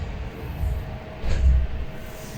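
Swiss Golden Pass train running along the line, a steady low rumble of wheels on track with a couple of louder swells, heard from inside or near the carriages with no voices.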